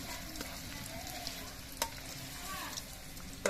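Paneer pieces fry in hot oil in a pan over a wood fire, giving a faint steady sizzle with a few light clinks of a utensil, quiet and close.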